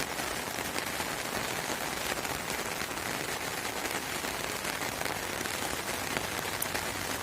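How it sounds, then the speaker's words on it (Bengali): Steady rain pours over a village, a dense, even hiss of drops hitting surfaces that holds unbroken for the whole stretch, with no voices. "একটু ঘুরে ঘুরে দেখাই বৃষ্টি দৃশ্যটি"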